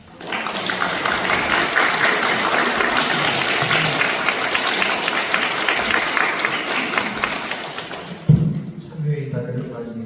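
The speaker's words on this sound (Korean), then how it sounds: "참여에 대해서 좋은 말씀을 해주신 원타원님께 다시 한번 큰 박수 드리겠습니다." Sustained audience applause at a Won Buddhist temple service, dense clapping across the room that holds steady for about eight seconds, then breaks off with a thump and quieter stray noise.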